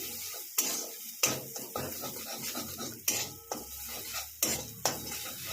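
Ginger stir-frying on low heat in a pan for aloo paratha, a soft sizzle under repeated rhythmic scrapes and clinks of a utensil against the metal, six or so strokes, close by and without speech.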